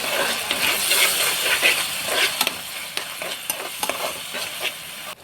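Chilli, soy and tomato sauces are stirred into fried vegetables in a pan for chicken manchurian noodles. A soft sizzle runs under a series of sharp metallic clinks and scrapes from the spatula.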